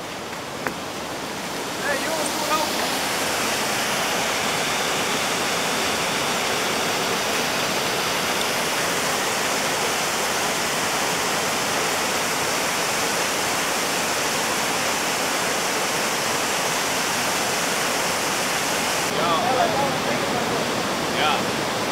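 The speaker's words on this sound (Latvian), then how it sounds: "Visi cītīgi filmē Kalanderas ūdenskritumu." The Callander waterfall in Scotland roars as a loud, constant wash of rushing water across the whole stretch, with the steady broadband rush never letting up.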